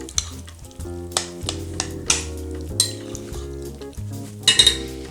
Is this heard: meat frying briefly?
yes